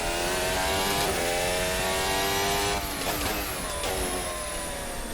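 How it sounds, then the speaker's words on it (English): A Formula Hybrid 2022 F1 car in Assetto Corsa runs on its combustion engine alone, a loud high-pitched buzzing whine climbing steadily through the revs, then dipping and rising again with quick gear shifts, alone and sustained. "So strictly on the combustion engine now."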